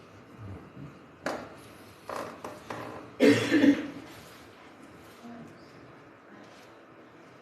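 A few scattered throat-clearing rasps and a cough, one louder burst in the middle, against a quiet room.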